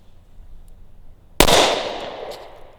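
A single sharp shot from a Smith & Wesson Shield .45 ACP pistol rings out loud and close, its report decaying over about a second, with no other shots around it.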